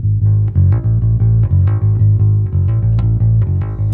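Distorted electric bass played through an Amplitube amp plugin, blended with a miked low end, thumping out a steady rhythmic riff of repeated gritty low notes, loud and close, with no talking.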